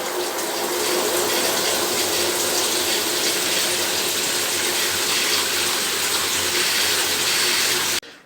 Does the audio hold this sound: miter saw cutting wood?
no